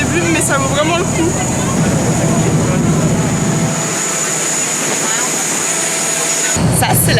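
A noisy Bangkok river ferry gives a loud, continuous engine roar that dips partway through and then surges back, with voices mixed in.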